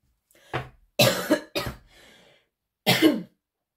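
Four separate coughs from one sick person, three close together in quick succession followed by a pause and a final cough, close and clear against silence.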